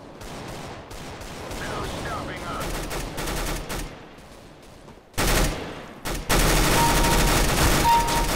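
Bursts of rapid gunfire in Counter-Strike: Global Offensive crackle and pop in uneven volleys, growing louder and denser toward the end, with sparse electronic effects mixed in.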